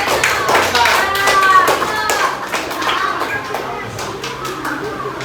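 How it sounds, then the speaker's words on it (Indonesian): A group of pupils claps for their classmates in a classroom during an unplugged coding lesson, steady scattered hand claps filling the room with a voice and chatter mixed in. "kita berikan aplaus untuk kelompok 4"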